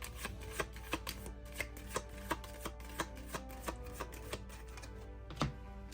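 Cards from a Spider-Man superhero card game being shuffled at close range, a steady series of crisp, evenly spaced riffling clicks over a faint continuous hum, with no one talking.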